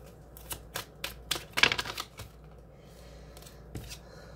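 Tarot cards are shuffled in a quick flurry of soft riffling clicks and snaps, close and moderately loud, followed by a few sparse taps in an otherwise quiet room.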